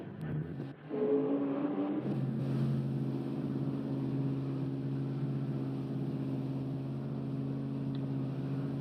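Race cars idling and revving on the grid at Brands Hatch in GT Sport, a steady droning engine hum that settles into a sustained rumble after a brief rising rev at the start.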